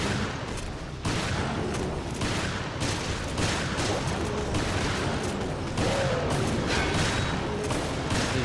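Frag grenade blasts and heavy gunfire in Resident Evil Revelations raid mode, a dense, loud, continuous barrage of booms and shots running throughout with no pauses.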